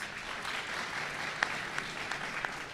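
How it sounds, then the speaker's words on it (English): Soft applause from a morning audience honoring a state Chairman of Education, a quiet, distant patter of clapping with a few sharper individual claps standing out near the end. "Let's give him a round of applause."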